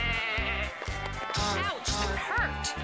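A cartoon goat bleats repeatedly in a quick rhythmic series of loud, close, quavering calls, with a few brief voices mixed in between.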